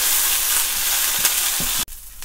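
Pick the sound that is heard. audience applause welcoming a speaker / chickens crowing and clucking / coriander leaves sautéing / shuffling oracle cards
coriander leaves sautéing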